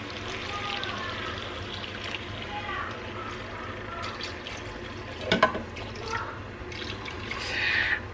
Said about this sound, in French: on va venir ajouter de l'eau.